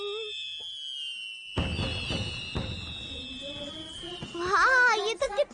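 Cartoon fireworks in a Doraemon episode: a sustained high whistle, then a burst of dull thumps and crackles, with a voice speaking at the end.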